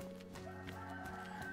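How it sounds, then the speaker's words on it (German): Rooster crowing in the survival game DayZ: a drawn-out, harmonic cock-a-doodle-doo at moderate level over a steady background hum, with no talk. "Du sollst erst krähen, wenn die Sonne auch wirklich aufgeht."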